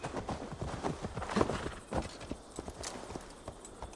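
Horse hooves clip-clop in a steady walking rhythm in the video game Assassin's Creed Valhalla, moderately close and fairly quiet, with no talking.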